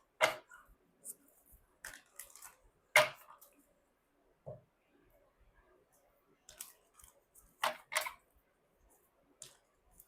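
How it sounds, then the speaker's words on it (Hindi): Tarot cards being shuffled by hand at close range, with soft intermittent riffles, flicks and taps in uneven bursts amid quiet pauses. "सो मैं शफल कर देती हूँ आप ही के सामने आपके कार्ड्स"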